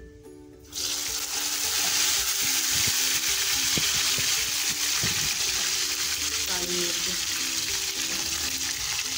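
Spices hit hot oil with browned onion, garlic and ginger for a vegetable pulao, giving a loud, steady sizzle that starts abruptly and holds throughout, with faint stirring clinks and a voice talking over it.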